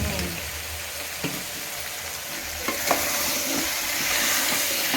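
Food fries in hot oil with turmeric for a taro-root pulusu, giving a dense, steady sizzle close up, with a few faint clicks and stirs underneath.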